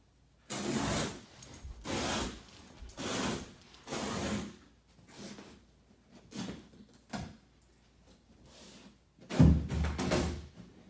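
Old carpet being cut into strips by hand, with repeated rough tearing and scraping strokes in irregular bursts and a louder thump near the end, with no talking.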